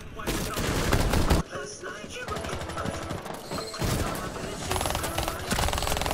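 Dense bursts of automatic gunfire in the Terrorist Hunt mode of a tactical shooter game, rapid repeated shots loud and close, briefly dropping off before more firing resumes, with players talking over it.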